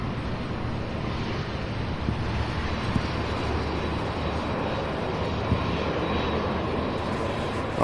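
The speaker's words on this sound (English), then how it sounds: "2 MD-11s in a row" A UPS MD-11 cargo jet at Louisville airport gives a steady, moderately loud jet roar with wind buffeting the microphone, continuous throughout with no talk.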